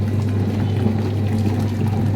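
Tamarind water pours steadily in a continuous, close, fairly loud rush while bangude fish curry is made, with no talk over it.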